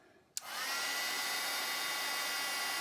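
A heat embossing tool clicks on and blows a steady, loud hot-air whoosh, used to melt silver tinsel embossing powder on a card, holding constant after the brief switch-on click.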